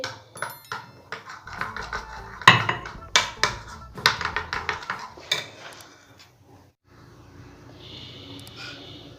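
Besan halwa mixture is stirred with a metal spoon that clinks and scrapes rapidly against the vessel, loud and close, before slowing and fading to quiet near the end.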